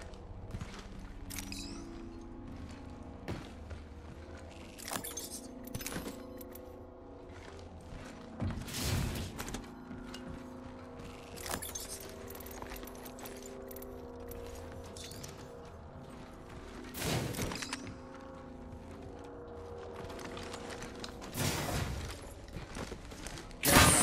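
A care package drops in the video game Apex Legends with mechanical creaking, ratcheting and gear clatter, then thuds and bangs at intervals over a low background rumble.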